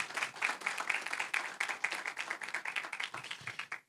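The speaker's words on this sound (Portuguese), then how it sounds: "uma salva de palmas, por favor." Applause at a Brazilian business association (Associação Comercial) election event, a steady run of many hands clapping at moderate level that slowly thins out toward the end, with no talk over it.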